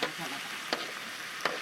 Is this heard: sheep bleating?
no